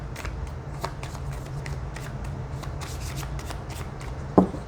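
Oracle cards being shuffled in quick riffles and rubs, close up, with a sharper snap near the end over a low steady hum.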